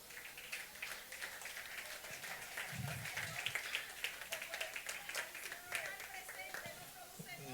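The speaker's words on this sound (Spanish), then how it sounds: "Dale un aplauso al Rey por eso." A church audience claps and applauds continuously, a steady crowd patter with voices mixed in underneath.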